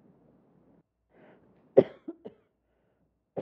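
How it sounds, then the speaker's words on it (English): A dry cough from an adult indoors, one sharp loud bark followed by two smaller coughs and another burst, after soft breathy throat noise, alone with no talk. "My cough is just because it's dry anymore with all the furnaces running."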